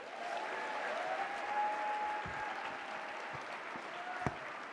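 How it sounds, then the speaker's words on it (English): Audience applause at the Ripple of Hope Awards ceremony, a steady, fairly distant wash of clapping lasting several seconds with a few sharper claps and cheers poking through. "So, will you please help me welcome to the stage, with a big, rousing round of applause, Diontre Jones, everyone."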